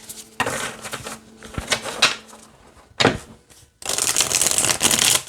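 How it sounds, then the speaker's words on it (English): Wyspell tarot cards are riffled and shuffled up close in several rapid, crisp bursts, with brief pauses between them and a longer shuffle at the end. "let's go ahead and see how this shuffles"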